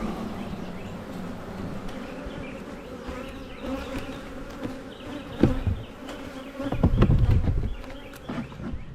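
Honey bees buzz steadily around a beehive during a mid-April hive inspection, a dense close drone that swells and thickens near the end, with a few faint knocks and no talking.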